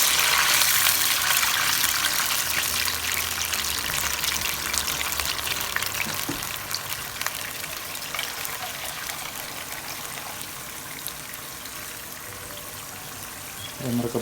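Water being poured into a pot for Kerala fish biryani rice, a steady broadband trickling and splashing wash that stays fairly loud throughout and slowly eases toward the end, with no talking.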